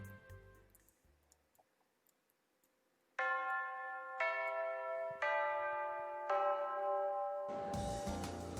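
A school bell chimes in the visual novel Fureraba, a run of bright sustained bell tones entering in successive strikes at moderate volume after a quiet stretch and building into a louder, fuller ring.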